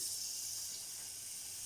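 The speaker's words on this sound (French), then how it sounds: "dans une casserole chaude, nous allons mettre le beurre." Butter sizzling in a hot saucepan at the start of a fisherman's sauce for scallops, a soft continuous hiss, faint and steady with no voices.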